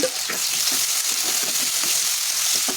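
Chopped onions sizzle in hot oil in a pan for wheat rava upma, a steady, close frying hiss with faint stirring scrapes throughout and no talking.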